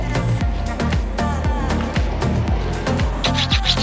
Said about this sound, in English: We just finished filing